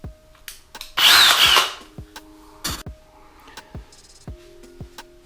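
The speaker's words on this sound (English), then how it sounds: "You're gonna want a good masonry bit to go through the tile" A power drill fitted with a masonry bit bores through bathroom wall tile while a sliding shower door is installed: one loud grinding burst of about a second, followed by sharp knocks and clicks from handling the tools.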